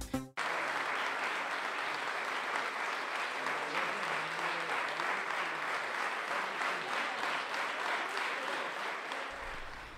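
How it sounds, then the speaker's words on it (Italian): Long, steady applause from a crowd at a mayor's tricolour sash ceremony, dense clapping sustained for the whole stretch and tapering slightly near the end. "Un lungo applauso ha coronato la posa della fascia tricolore"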